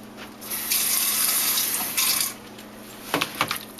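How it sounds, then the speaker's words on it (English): A little water runs from a tap into a marinade of sugar, light soy sauce and grapeseed oil, a steady close hiss lasting about two seconds, then a few brief splashes and drips. "And I put a little bit of water"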